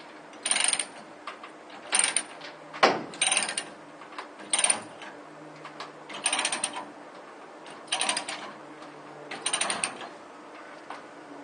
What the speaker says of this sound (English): We're back now just onto the ratchet.